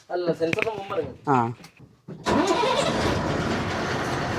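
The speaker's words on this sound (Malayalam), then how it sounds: "ഇതാ ലൈലാൻഡിൻ്റെ സൗണ്ട്" A BS6 Ashok Leyland truck's diesel engine cranks and catches, then settles into a loud, steady rumble close by, following a stretch of speech.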